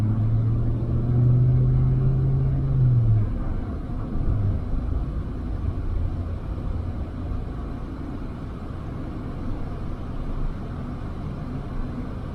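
A Ram TRX pickup truck rolls over a torn-up road under construction, giving a steady low rumble of engine and tires with dull thumps from the bumps inside the cab and no talk.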